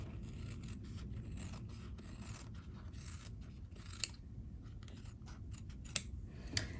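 Scissors snipping through quilt fabric and interfacing for a Dresden quilt, a run of quiet, close, crisp cuts and rasping slides with a few sharper clicks near the end, no talking.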